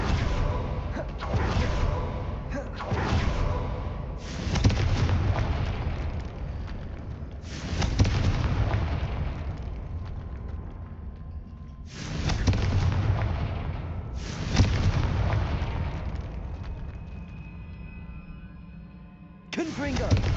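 Repeated explosive blasts from the Confringo spell in Hogwarts Legacy, heavy booming bursts every few seconds with rumbling decay, loud and close, with game effects layered between.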